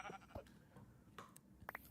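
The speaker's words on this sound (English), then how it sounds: "Oh, we got another sheep." Short bleats from a sheep in the video game Minecraft, a few brief calls over about two seconds, quiet against faint game sounds.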